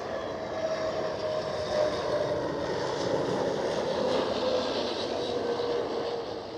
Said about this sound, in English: Aer Lingus A321 XLR